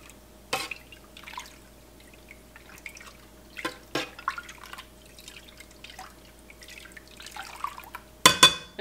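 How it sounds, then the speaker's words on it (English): Milk with dissolved citric acid and salt being stirred for cheesemaking, heard as sparse liquid drips and sloshes, soft scrapes and a sharp clink near the end, in a quiet room. "I'm going to do a quick stir."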